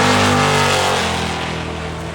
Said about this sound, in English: This car is a, I'd say, certifiable drag and drive legend car.